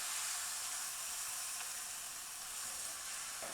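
Crushed tomatoes stirred in a pan while making quick chicken parmesan, giving a steady soft sizzle and hiss throughout with no distinct scrapes, moderately quiet and with no talking.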